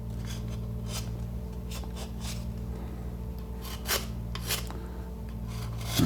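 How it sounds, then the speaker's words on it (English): Steady scraping and rubbing as flash is worn off a slip casting mold made with Shape Cast, close and continuous with a few louder strokes over a constant low electrical hum. "there's usually just a little bit of flash between the pieces. Just rub that down."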